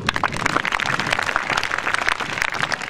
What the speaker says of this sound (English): Clap for both team